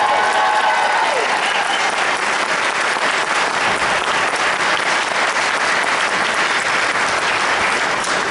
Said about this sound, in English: So if we can, just clap for them again